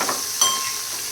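Steady sizzling of cluster beans frying in hot oil, with a brief clink of a utensil stirring partway through.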